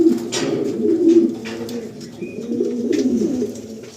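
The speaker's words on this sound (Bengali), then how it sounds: "দাদার ঘরে মোট 12 পেয়ার পায়রা" Racing pigeons in a home loft, several birds cooing in continuous low, rolling calls close by, with a faint chirp in the background.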